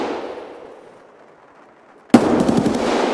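Gunfire in the Escape From Tarkov video game: a fading echo tail gives way to a sudden loud burst of rapid, crackling shots that keep rattling to the end, with no talking.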